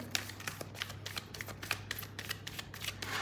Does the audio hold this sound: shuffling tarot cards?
yes